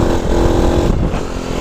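Honda Cub C90 motorcycle fitted with a 140cc engine, running loud and close with a rough, buzzing engine drone on an off-road ride, steady with a slight dip midway.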